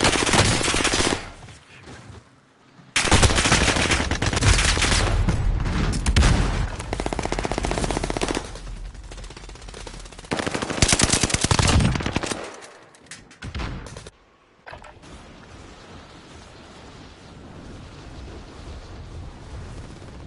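Automatic weapons fire in Warzone: long, loud bursts of rapid gunfire with booming impacts and explosions, broken by short pauses, then fading to quieter battlefield rumble near the end.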